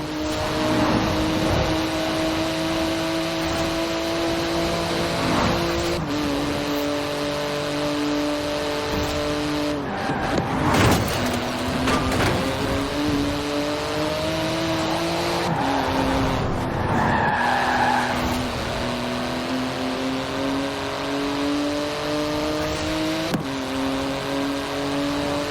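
A car driven hard in the racing game Forza Horizon 4, its engine droning and shifting pitch through gear changes while tyres skid and squeal; loud and continuous throughout, with no talk.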